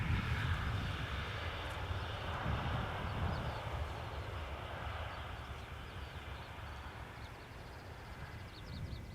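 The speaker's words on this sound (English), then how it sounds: "Now this is China Southern Cargo, flight 495, arriving from Shanghai." Broad, distant roar of a China Southern Cargo airliner arriving at Schiphol Airport, steady and moderately loud at first, then slowly fading, with no voices.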